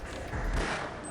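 A burst of gunfire in the Half-Life video game, a loud, dense rattle of shots with a heavy low boom at its peak, lasting about a second with no talk.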